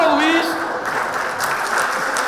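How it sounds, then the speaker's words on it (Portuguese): An audience at an educational talk on diversity, inclusion and equity applauds for Luís, a dense, steady wash of clapping that stays even across the short stretch, with a voice briefly audible at the start. "Salve-palmas para o Luís."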